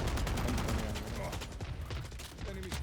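Gunfire in a tactical shooter video game comes as rapid bursts of shots at moderate level, under faint game sounds, with a brief tonal effect near the end.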